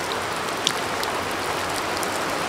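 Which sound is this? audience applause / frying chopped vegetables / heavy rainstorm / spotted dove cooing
heavy rainstorm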